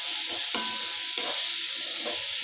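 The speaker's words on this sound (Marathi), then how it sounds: "हे आता याच्यात टाकायचं आणि मस्त परत परतून घ्यायचं कांद्यामध्ये" Spices tossed into frying onions in a pan for a dry cauliflower sabzi sizzle steadily, with a few soft scraping stirs breaking through the constant hiss; no voices.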